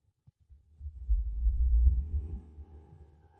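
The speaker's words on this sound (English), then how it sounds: "her heart beating faster than it should have" A fast-beating heart, a couple of faint thumps swelling into a deep, muffled, throbbing pulse that peaks and then fades, heard alone.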